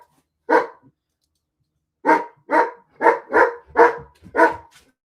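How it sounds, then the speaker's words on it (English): Deep, loud barks from a large dog: one bark, a pause, then six more in a steady series, close by with nothing else around. "That's a big dog bark right there."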